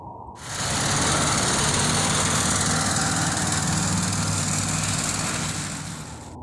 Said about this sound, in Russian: покажу вам, как работают некоторые элементы мотора.